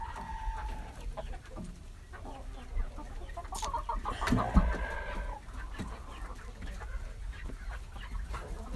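Chickens cluck in scattered bursts, fairly close, with a brief louder squawk midway and a low background rumble throughout.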